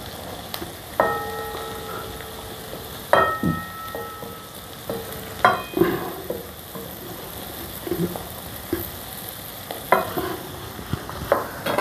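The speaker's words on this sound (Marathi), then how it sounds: "कांदा चांगला लाल होईपर्यंत भाजून घ्यायचा आहे." Chopped onions fry in a pan with garlic for egg bhurji, a spatula stirring and scraping in repeated clanks over a continuous sizzle.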